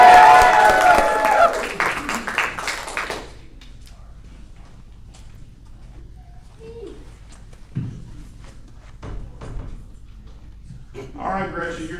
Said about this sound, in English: Let's get loud and welcome